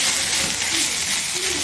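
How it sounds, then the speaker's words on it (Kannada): Grated coconut and ginger masala fries in hot oil in a pan, a steady, close sizzling hiss that holds evenly through the short moment. "ಇದು ಆಯಿಲ್ ಫ್ರೈ ಆಗ್ತಿರೋದು"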